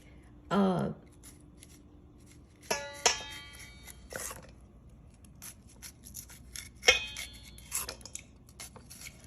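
A sharp knife shaves kernels off an ear of corn in a few short, close scraping strokes with quiet pauses between, along with faint clicks and handling noises.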